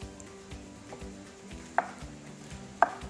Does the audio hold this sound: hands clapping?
no